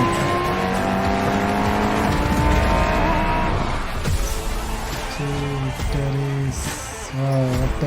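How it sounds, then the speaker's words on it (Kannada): Engine sounds from a PC racing video game, a car starting up and racing with sustained loud engine tones, shifting whines and tire noise, with layered game music in the background. "ಸ್ಟಾರ್ಟ್ ಮಾಡೋಣ ಇಂಜಿನ"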